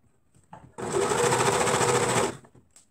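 An electric sewing machine stitches shorts pieces together in one steady, close, rapid whirring run of about a second and a half, with faint handling noises before and after.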